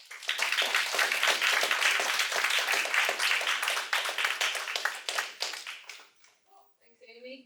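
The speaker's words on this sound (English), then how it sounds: "Applause for you." Audience clapping after a talk on making soils more accessible with radiance fields: close, dense applause that holds for several seconds, then tapers off into scattered claps and a brief voice.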